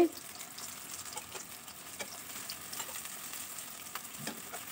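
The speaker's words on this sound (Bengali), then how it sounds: "এখন এখানে আমি ছানাগুলো একটা একটা করে দিয়ে দিব কড়াইতে।" Chhana (cottage cheese) pieces fry in oil in a wok, making a quiet, steady sizzle with a few faint clicks and taps of pieces going in, heard close and without talk.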